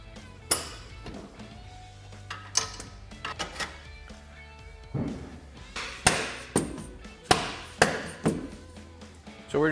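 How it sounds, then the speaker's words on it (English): Bolts being tapped through an ATV frame stiffener on a Polaris RZR Trail 90, a series of sharp metallic hammer taps, sparse at first then quicker and more regular, close and fairly quiet. "So we're just giving our bolts a little tap here."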